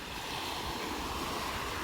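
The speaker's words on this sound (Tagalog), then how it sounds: "talagang sobrang lakas po ng mga alon dito" Strong waves and wind hit the dolomite beach at Manila Bay during a typhoon, making a brief, steady roar of surf and gusting air with no break.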